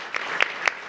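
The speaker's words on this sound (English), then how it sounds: "And applause, please, for Ioannis." An audience at a young chef cooking competition claps briefly, a short burst of scattered applause with a few distinct hand claps.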